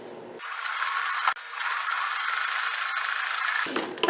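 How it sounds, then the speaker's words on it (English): A sewing machine runs a zigzag stitch joining dress fabric, giving a close, steady whirring hum that stops briefly near the start and then runs on evenly before cutting off. "I'm just going to sew those together with a zigzag stitch"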